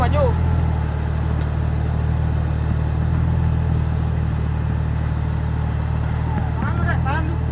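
An off-road car engine at a 2025 Valentine off-road event runs loud and steady close by, holding a constant low drone with little change in revs, while people talk over it.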